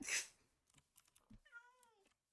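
A cat in Minecraft gives a single clear, rising-then-falling meow near the end, preceded by a brief burst of noise and a few soft clicks, all faint and close with no talking.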